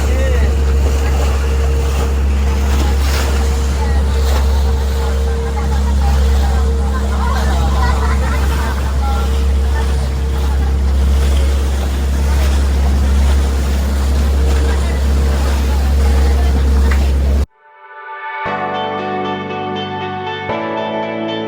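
A boat travels toward Cadlao Lagoon in El Nido, Palawan, its engine and wind making a steady, loud roar over the water with rushing noise throughout, until it cuts abruptly to soft music.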